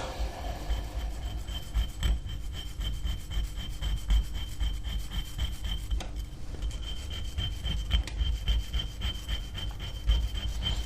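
A coarse sharpening stone rubs steadily against a rotor from a 13B rotary engine being rebuilt, giving a continuous gritty scraping with quick back-and-forth strokes, close and fairly loud throughout with no talking.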